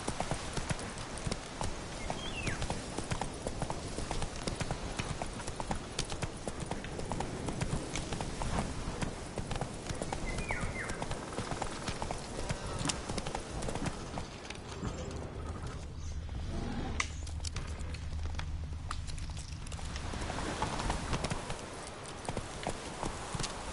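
Roach the horse in The Witcher trots along with steady, rhythmic clip-clop hoofbeats, close and continuous throughout, over a faint outdoor ambience with occasional bird chirps.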